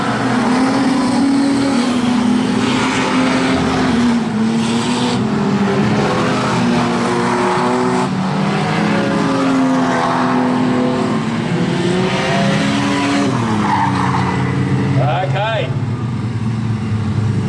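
Street stock race cars circle a speedway track in a feature race, their engines roaring loud and continuous with shifting pitch as they pass, while a commentator talks over the track noise throughout.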